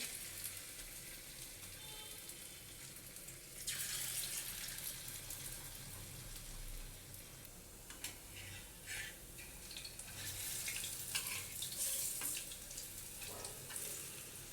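Malabar spinach leaf fritters (pui patar bora) frying in hot oil in a home kitchen, a faint steady sizzle with occasional louder crackling bursts and brief clinks, no talk.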